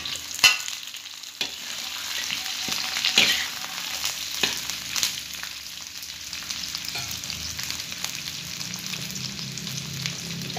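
Tongkol tuna hitting a hot pan and being stir-fried for a spicy pete sauté, a steady close sizzle and crackle with occasional scrape and clatter of the spatula, no voices.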